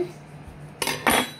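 Cutlery clinks as a butter knife is taken out in a kitchen while cupcakes are being decorated: two short, bright metallic rattles close together after a quiet pause.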